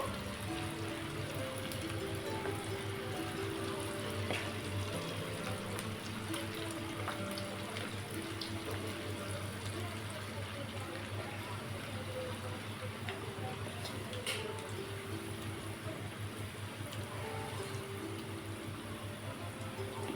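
Dry gobi (cauliflower) frying in a pan gives a soft, steady, even crackle and hiss that carries on without a break, fairly faint and close.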